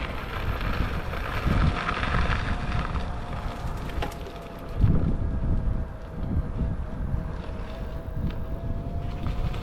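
Strong wind buffets a rider on a Begode A2 electric unicycle during a trail ride, a continuous roaring rush with gusts and thumps that swell and fade throughout.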